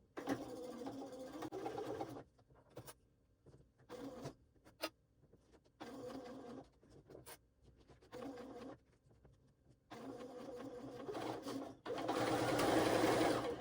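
A sewing machine stitches the straight basted edge of a fabric waist pack in several separate bursts with short pauses between, the final run the loudest and longest.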